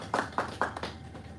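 An audience at a pitching session gives a presenter a short round of applause: a few distinct, fairly close hand claps come in quick succession, then trail off.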